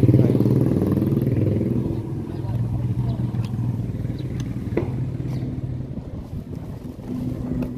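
A friend's new, lightly modified motorcycle being ridden on the way to Boudha, its engine droning steadily and close throughout with a low rumble, occasional clatter and road noise, and people talking over it.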